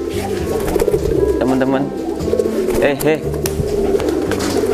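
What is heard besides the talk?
young pigeon cooing while courting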